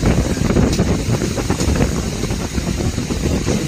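Strong wind gusts before heavy rain roar as a loud, steady rumble buffeting the microphone outdoors, continuous throughout.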